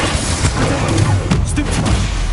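Confringo blast spell exploding in the Hogwarts Legacy video game, a dense burst of booming, crashing impacts layered over continuous rumbling combat noise, loud and close throughout.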